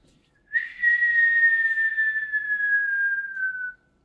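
A human voice imitates the falling whistle of a cartoon Acme anvil: one long, clear whistle that slides slowly downward in pitch for about three seconds, then cuts off.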